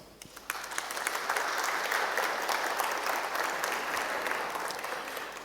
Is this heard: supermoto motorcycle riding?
no